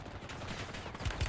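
Short flurry of video game gunshots, several quick muffled bangs clustered near the end of a brief moment, heard amid noisy game ambience.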